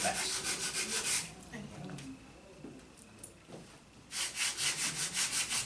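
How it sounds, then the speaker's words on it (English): Rhythmic scratchy rubbing of sandpaper on wood by hand, fast strokes at first, pausing in the middle, then resuming briskly, close and fairly loud. "sanding is probably the most important part of this process"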